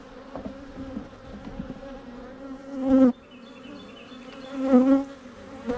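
Honey bees packed on two hive frames hum in a steady, close buzz, with a couple of louder swells as bees pass near.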